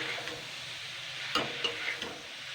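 Chopped ingredients are stirred gently in a pan over a faint sizzle, with a few distinct scraping clinks of a utensil against the pan in the second half.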